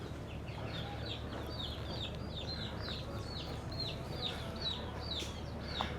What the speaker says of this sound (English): I think you can hear the chickens